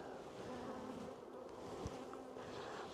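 Young honeybees crowd a hive frame during spring work on a strong colony, giving a steady, dense buzzing hum that holds close and even throughout.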